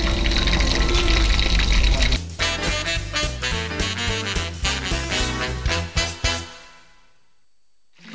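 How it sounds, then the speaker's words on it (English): Fried crystal shrimp balls are strained after cooking in a Sichuan kitchen. Liquid splashes and pours for several seconds in a run of clattering bursts, then goes quiet near the end, with no talking. "He's turned off the burner here and he's straining the shrimp."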